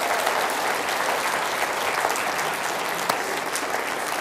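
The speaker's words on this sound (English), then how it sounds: "Give him a round of applause for saving lives" A large audience claps in dense, sustained applause at an inclusivity and diversity talk, loud and steady for the whole stretch with no voices over it.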